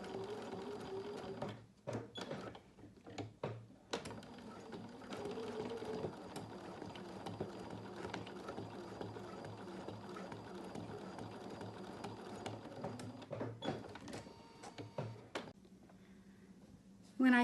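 A sewing machine stitches free-motion thread leaves in steady, quiet mechanical runs, with brief stops and starts between bursts.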